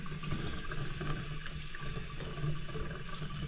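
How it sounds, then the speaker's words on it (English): Water running steadily from a tap after a galvanized steel pipe and black iron elbow were replaced, a continuous even rush with no talk over it. "let's start running the water."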